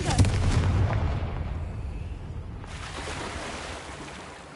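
A Confringo spell blast in a Hogwarts game erupts in a loud, booming burst at the start, then decays into a long rumbling, whooshing tail that fades away.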